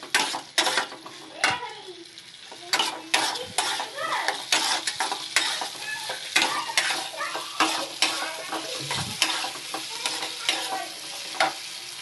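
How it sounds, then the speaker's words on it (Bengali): Chopped onion and potatoes fry in a pan for a fish curry, with an ongoing sizzle broken by repeated scraping stirs of a utensil against the metal; a faint voice is briefly audible. "এবার দিলাম আলুটা ঢেলে, এবার একটু ভালো করে কষে নেবো আলুটাকে"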